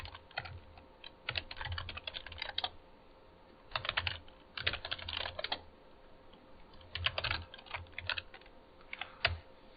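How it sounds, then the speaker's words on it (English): Someone types on a computer keyboard in quick, uneven bursts of clicking keys separated by short pauses, close up and fairly quiet, with no talking. "Why am I typing in which Python here?"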